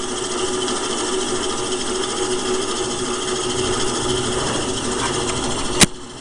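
A reel grinding machine sharpening a golf course mower reel gives a steady, loud mechanical whir and grind throughout, with a sharp metallic click near the end.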